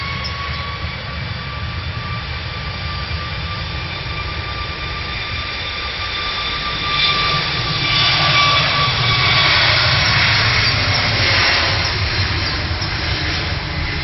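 A Turkish Airlines Airbus A321neo's jet engines roar steadily at Manchester Airport, a sustained whine with a tonal hum that swells louder about halfway through as the aircraft draws nearer.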